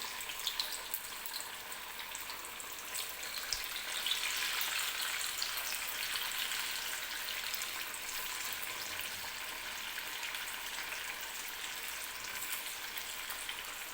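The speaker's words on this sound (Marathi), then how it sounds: "मीडियम गॅसवरतीच आपल्याला ह्या वड्या तळून काढायच्या आहेत." Alu vadi (colocasia leaf rolls) frying in hot oil over a medium gas flame, giving a steady, close, continuous sizzle and hiss that swells slightly midway and holds evenly throughout, with no voices.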